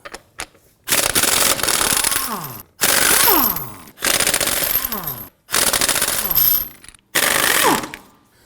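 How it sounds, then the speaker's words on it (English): An impact wrench rattles in five loud bursts, each about a second long, separated by short pauses, as 19mm lug nuts are loosened on the rear wheels of a 2003-2014 Volvo XC90. "Using a 19mm socket, we want to get it loosened and remove our lug nuts."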